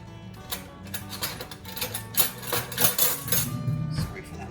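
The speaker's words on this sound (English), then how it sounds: "Sorry for that loud noise, I'm just getting my knife." Metal knife picked up from a kitchen counter while making cucumber mint tea sandwiches, a burst of close, loud clinks and clatter over several seconds, with faint background hum.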